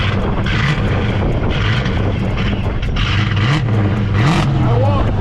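A supercharged Ford Fox body coupe engine cranks and runs while cold, with a loud, close rumble and rising and falling revs. Voices talk over it.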